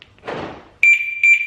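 A BMW's alarm siren sounds a loud, steady electronic chirp twice in a garage, following a short rustling noise. The two tones come close together.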